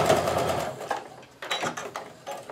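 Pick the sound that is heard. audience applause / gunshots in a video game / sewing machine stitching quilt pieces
sewing machine stitching quilt pieces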